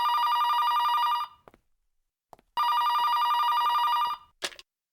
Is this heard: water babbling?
no